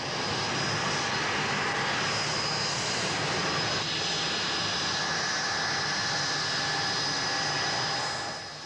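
Blackburn Buccaneer jet, an ex-Royal Navy strike aircraft in RAF service, roaring steadily with a broad loud engine rush and a high whine throughout, easing off slightly at the end.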